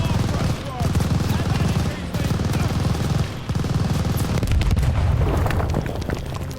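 Machine gun fire and explosions ring out in a Call of Duty Vanguard campaign battle around a tower MG nest, with loud sustained bursts, heavy booms and shouted voices mixed into the din.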